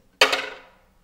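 A muted col legno jeté: the wooden side of the bow is thrown onto the string and bounces. It makes one sharp, dry, close strike with a quick second bounce, then fades within about half a second.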